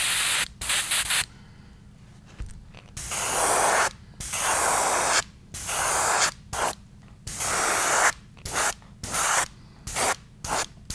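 Bursts of airbrush spray laying white Createx paint on a fishing lure's belly and sides, steady close hissing passes of one to two seconds broken by short pauses, with a quiet low hum underneath and no voices.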